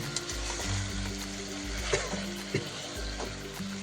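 Chicken browning with spices in a pan for Kashmiri restaurant-style biryani gives a soft, continuous sizzle under steady background music, with a couple of brief clinks; no voices.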